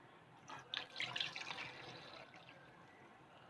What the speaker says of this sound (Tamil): பவுலில் வச்சு நம்ம தண்ணி ஊற்றிட போகிறோம்.